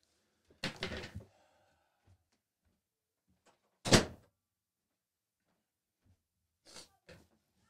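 Door being handled indoors, a cluster of knocks and bumps around the first second, one sharp solid thud near four seconds, then two softer knocks at the end, with near silence between.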